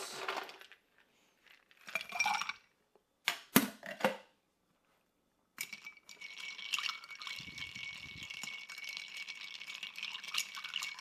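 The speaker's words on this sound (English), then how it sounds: "Add a little ice." Ice cubes clink and rattle into a glass for a key lime martini made with cream of coconut, a few sharp bursts of clinks followed by steady, close, continuous shaking and rattling of ice, no voices.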